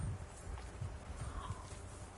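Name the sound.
horse hooves clip-clop, video game Kingdom Come Deliverance 2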